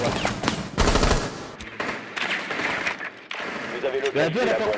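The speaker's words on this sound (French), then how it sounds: "Oh, il tire, je sais pas d'où il tire." Bursts of automatic gunfire in the tactical shooter game Rainbow Six Siege during a competitive esports final, loud rapid volleys over busy game action, with players talking throughout.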